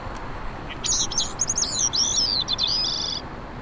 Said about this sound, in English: The song of Bicknell's thrush might as well be the lunchtime bell